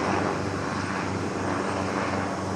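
Helicopter passing overhead, a steady broadband rotor and engine roar that stays loud and even throughout, with no voices.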